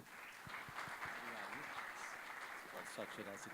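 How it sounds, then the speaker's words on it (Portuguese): Audience applause fills a congress hall, a dense steady clapping that carries throughout, with a few voices and some speech sounds mixed in. "Nós vamos ouvir agora o doutor Max Fontes, que recebe mais uma vez os aplausos de todos."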